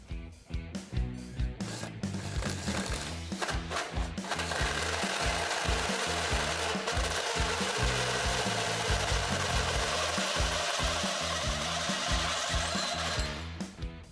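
A power tool cuts holes in the steel frame rails of a 1971 Chevy Caprice chassis. After a few short stuttering bursts it settles into a loud, sustained, rapidly pulsing grind close by, with no speech.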